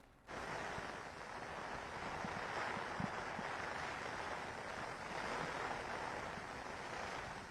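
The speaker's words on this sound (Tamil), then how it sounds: "புயல் காரணமாக மாமல்லபுரம் பகுதியில் பலத்த சூறை காற்று வீசிக் கொண்டிருக்கிறது." Strong gusty cyclone wind at Mamallapuram on the coast during Cyclone Fengal, a steady broadband roar of wind and buffeting on the microphone that holds for several seconds, faintly mixed with surf.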